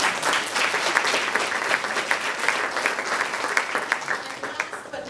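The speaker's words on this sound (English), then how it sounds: "let us just give another round of applause for Rabbi" An audience applauds an author at a social justice panel event, a loud, sustained round of clapping from a sizable crowd that holds steady and starts tapering off at the end.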